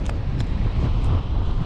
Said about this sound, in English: Wind is howling, guys